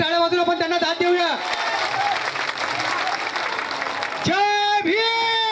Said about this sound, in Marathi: जोरदार टाळ्या वाजून आपण त्यांना दाद देऊया।